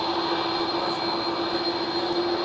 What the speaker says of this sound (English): Alright, one A330 for another Delta Airlines A330 going for...